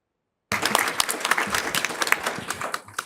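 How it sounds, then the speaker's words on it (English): Applause fills a workshop room after a closing talk, dense clapping starting abruptly and holding steady at moderate loudness throughout. "Lots of claps for you in the room."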